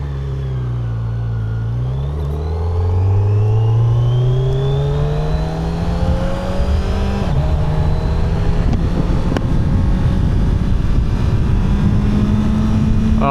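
A 2025 Kawasaki Z900 inline-four engine accelerates hard while being ridden on the road, its rising tone sweeping up steadily through the gears with a loud, continuous roar and wind rush, no talking.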